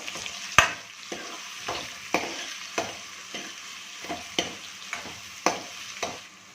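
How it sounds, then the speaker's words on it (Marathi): Three medium onions, finely chopped, sauté in a pan for methi chicken: a gentle sizzle steadily punctuated by regular spatula strokes roughly twice a second, close and clear. "आपला कांदा छान परतून घ्यायचा आहे"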